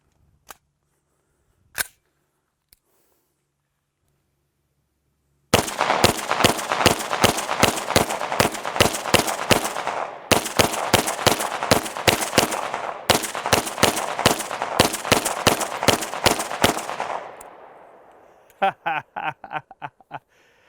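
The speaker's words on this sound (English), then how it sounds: "Some of the shots landed on the target." Rapid strings of gunshots from a CMMG 10mm firearm at a shooting range, loud sharp reports fired in quick bursts after a few isolated shots, followed by softer clicks near the end.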